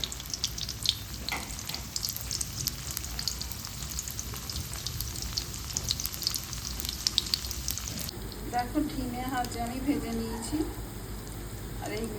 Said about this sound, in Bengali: তেল গরম হয়ে গেছে আমি এবারে এই করলাগুলো